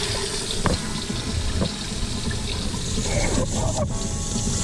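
Cold water running from a newly installed bathroom faucet into the sink, a continuous close hissing splash with a few small knocks and a faint voice underneath.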